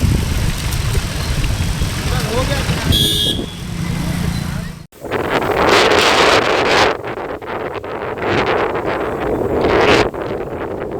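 Strong storm winds buffet the microphone in a steady roar through streets in Chhindwara, with gusting noise and a low engine-like rumble underneath, broken by a brief cut midway.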